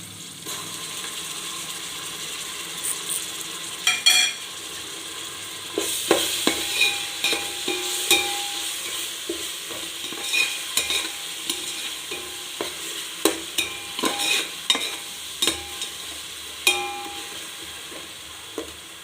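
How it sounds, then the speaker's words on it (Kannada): Ginger garlic paste goes into browned onions in a pan for chicken biryani, sizzling steadily while a spoon scrapes and clacks in irregular bursts. No voices are heard. "ಈಗ ಶುಂಠಿ ಬೆಳ್ಳುಳ್ಳಿ ಪೇಸ್ಟ್ ಹಾಕ್ಕೊಳ್ತಾ ಇದ್ದೀನಿ."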